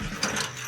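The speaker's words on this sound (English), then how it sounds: "we need to raise our landing gear to the proper ride height" Semi-trailer landing gear being hand-cranked upward, a short close burst of ratcheting gear clicks and mechanical grinding.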